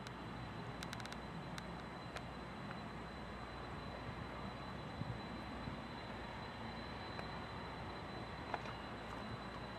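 A Western Global cargo plane takes off from runway 22 left at Chicago O'Hare, heard as a faint, steady, distant low roar that holds evenly throughout.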